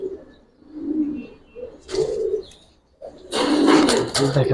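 Giribaz pigeons at a pigeon fair coo in soft, low bursts, with a louder, busier stretch of cooing and rustling toward the end.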